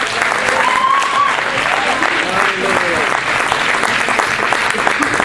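Dense, continuous applause fills a church service as the congregation claps for the Lord, a loud, even wall of hands with murmured voices mixed in throughout.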